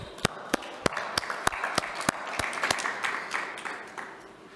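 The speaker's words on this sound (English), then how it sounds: "Let's give them a big round of applause." Audience applause at a hybrid World Post Day ceremony, a broad spread of clapping with a few sharp, close claps standing out in a regular rhythm, tapering off toward the end.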